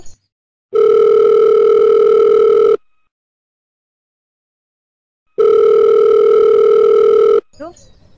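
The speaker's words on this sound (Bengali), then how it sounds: "হঠাৎই ফোনটা বেজে উঠল" A telephone rings loudly twice, each a steady two-second electronic tone separated by a few seconds of silence.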